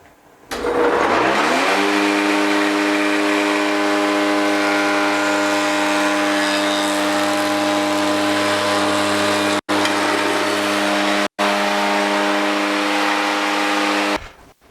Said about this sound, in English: Bad thing about this old joiner, it does not have any way to pull out the chips.